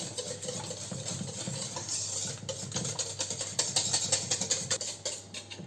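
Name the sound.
stirring muffin batter after adding milk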